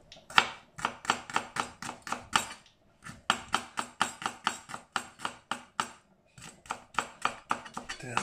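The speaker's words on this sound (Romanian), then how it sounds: "Tăiat așa în filiuțe subțirele." A knife slices a shallot into thin rounds on a board for a summer salad, giving steady, rapid close chops in quick bursts with a short pause between runs.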